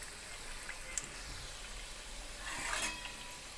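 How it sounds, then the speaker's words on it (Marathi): Sabudana vadas deep-frying in hot oil give a soft, steady sizzle and bubbling at low volume, swelling slightly near the end as the pan is stirred. "हे पलटी करून दुसरी साईड तळायची."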